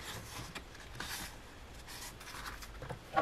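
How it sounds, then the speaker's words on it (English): Scissors or a blade cutting through the center of a paper ring-planner divider insert; soft, continuous rasping and scraping strokes, close and steady, ending with a sharper snip. "So I'll cut the center"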